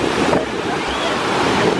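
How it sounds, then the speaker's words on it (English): Huge ocean waves crash on a black sand beach in Maui, a loud, continuous roar of surf mixed with wind buffeting the microphone, heard close and without talk. "But yeah, huge waves."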